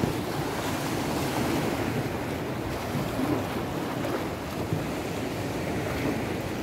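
Sea waves wash steadily against the rocks under a pier on a Sardinian beach, a continuous close roar of surf mixed with gusty wind buffeting the microphone, no voices.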